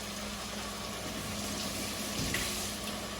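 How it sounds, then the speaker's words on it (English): Running water from a tap rinsing vegetables, a steady close hiss and gush of flow with a slight rise near the end, no talk. "We're gonna give it a rinse."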